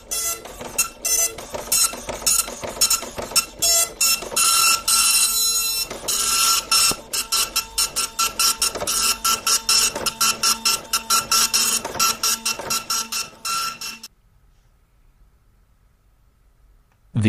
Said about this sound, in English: Go ahead and do a test print.